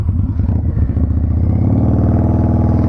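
Harley-Davidson V-Rod motorcycle engine, from 2006, running close and loud with a dense, steady throbbing rumble that firms into an even, rapid pulse, no voices over it.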